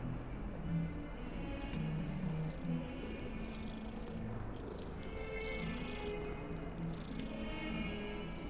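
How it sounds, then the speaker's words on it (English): A cat in Hogwarts Legacy purrs with a soft, steady low rumble, faint and continuous, with a few mild rises suggesting brief meow-like sounds. "We got a cat."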